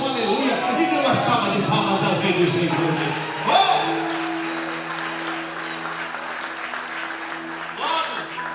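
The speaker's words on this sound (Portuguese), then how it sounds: "dê uma salva de palmas ao Rei dos Reis hoje" A church congregation claps along in a broad, steady wave during a lively worship service, the applause blending with voices and music-like tones, moderately loud and continuing throughout.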